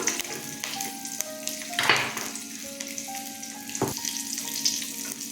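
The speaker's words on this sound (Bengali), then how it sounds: "লঙ্কা দিলাম মেথি ফোড়ন দিলাম" Chillies and fenugreek seeds crackle in hot oil for a fish curry tempering, a moderate steady sizzle with a louder burst of spitting midway and a sharp knock later on.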